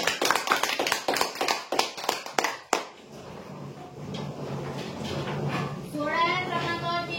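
A small crowd at a weekly lottery draw applauds a winner, a quick run of about a dozen sharp, separate claps that stops abruptly, followed by murmuring voices and room noise.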